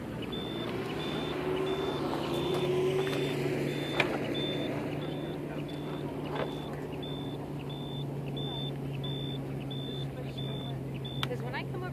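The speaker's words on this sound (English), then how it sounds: "The beeping's coming from us." Steady electronic beeping from a power source outside the gates of Creech Air Force Base, a regular pulse repeating through the whole stretch over a constant low hum and outdoor noise.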